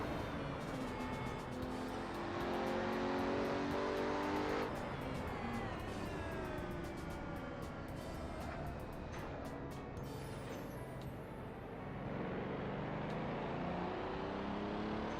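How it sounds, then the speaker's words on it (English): Car engine from the Assetto Corsa racing sim drones steadily for the whole stretch, its pitch climbing and falling with shifts and throttle, close and continuous with no voices over it. "this car is really scary to drive"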